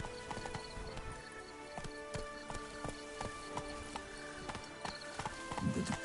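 Roach the horse galloping in The Witcher 3, a fast, even clip-clop of hooves under steady in-game ambience and music.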